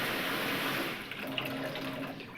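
Water gushes steadily at full pressure into a household storage tank, a continuous loud broadband rush with no pauses and no voices.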